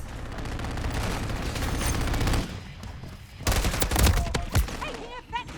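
Sustained automatic gunfire and explosions in the video game Modern Warfare 3, a dense continuous barrage that breaks off, then returns with heavy booming shots and a brief voice over the battle.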